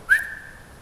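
A person gives one short, bright whistle that holds steady briefly and then fades, close to the listener in a quiet room.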